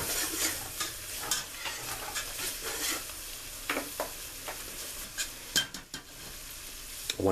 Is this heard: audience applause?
no